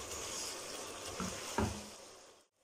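Sausage stir-fries in a pan with steady close sizzling, and a few scrapes and clinks as it is stirred. The frying cuts off abruptly near the end.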